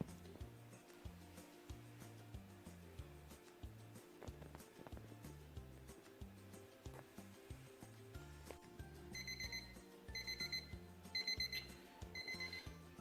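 A kitchen timer alarm goes off after three minutes of poaching eggs, a repeated beeping in quick bursts heard faintly over a rhythmic clattering background, with no talking.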